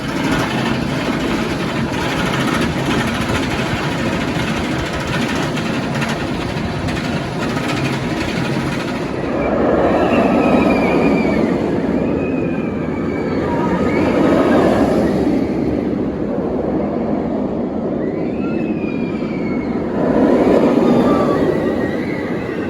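Riding the Afterburn roller coaster at Carowinds brings a loud, continuous rumble of the train on its track that swells into repeated roaring surges, with faint rising whines between them.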